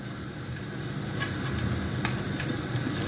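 Pieces of chopped chicken liver sizzle in hot oil in a frying pan, a steady, dense hiss with faint crackles running throughout at moderate loudness, with no voices.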